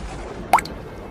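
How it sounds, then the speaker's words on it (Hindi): A single cartoon water drip from a leaking roof during heavy rain: one sharp, close plop that stands alone against a quiet background. "पूरी रात खूब जोरों से बारिश होती है, जिसके मारे उस गरीब परिवार का सोना दुर्लभ हो जाता है और छत जगह जगह से टपकने लगता है।"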